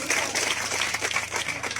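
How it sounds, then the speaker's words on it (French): An audience applauds in a dense, steady wash of clapping at moderate loudness that carries through the whole short moment. "On acclame."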